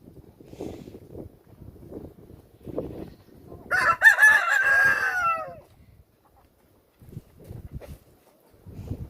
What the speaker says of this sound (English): our little special needs chicken